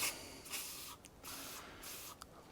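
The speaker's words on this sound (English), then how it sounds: "I'm literally just going to give that a helping of WD-40 in there." WD-40 sprays in several short hissing bursts into a Mountfield Empress lawn mower, close and fairly loud, with brief pauses between squirts.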